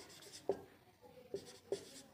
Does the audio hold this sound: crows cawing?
no